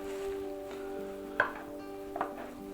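A knife halves an onion on a board: a few distinct, separated chops at a moderate level over a steady low background hum, with no talking.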